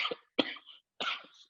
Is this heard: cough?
yes